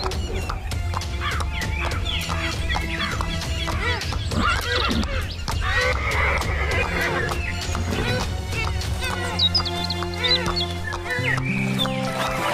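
A king's horse neighs and whinnies with clip-clop hooves as it is ridden off toward a magical pond, set within a busy musical storybook score with voices and other animal cries layered in.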